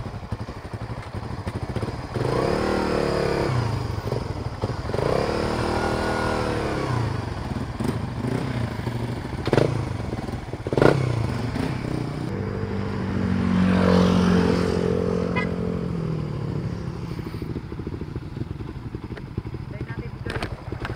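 Motorcycle engine fitted with a full-standard ECU revving at a tuning meet, a steady droning roar with rising and falling pitch, swelling louder midway, under men chatting nearby.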